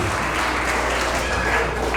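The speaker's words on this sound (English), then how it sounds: "a round of applause for our comedian from Delaware" Loud, dense audience applause for a comedian at a Kenyan festival in Columbus, Ohio, a continuous wash of clapping close up with a faint voice underneath.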